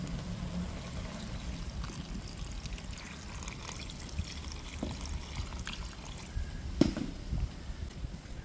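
Water pours and trickles steadily into a cooking pan while making butter chicken masala, a soft continuous stream with a few small splashes and clinks near the end.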